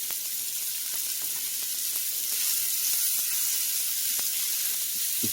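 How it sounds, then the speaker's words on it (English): Mushrooms cooking in butter in a pan give a steady, close sizzle that holds evenly throughout, with small pops and crackles scattered across it and no voices. "we're going to continue cooking those until the mushrooms have caramelization on them"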